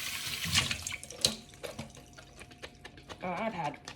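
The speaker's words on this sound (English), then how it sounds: "I'm gonna give it a rinse because there's soap on my hands" A kitchen tap splashes water while soapy hands are rinsed under it, with uneven close bursts of running water and a person talking at the same time.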